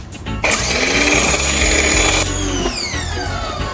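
A Westinghouse EPX3050 electric pressure washer runs close by with a loud, steady motor whine and spray hiss, cutting out after a few seconds as the pitch falls away.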